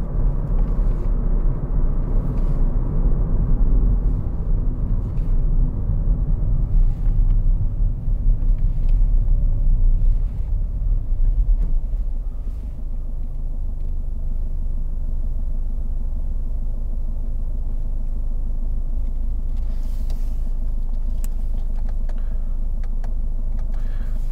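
A 2014 Ford Fiesta 1.5 TDCi Zetec hatchback is driven with its manual gearbox shifted up through fourth and fifth, giving a steady low in-cabin engine and road rumble with a slight dip midway and faint ticks, no talking.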